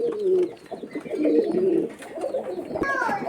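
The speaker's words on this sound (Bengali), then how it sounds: "এক জোড়া ঘিয়া চললি কবুতর" A pair of ghiya cholli pigeons, a local Rajshahi giribaj breed, coo softly and close by in repeated throaty rolls.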